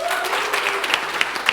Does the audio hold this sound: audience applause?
yes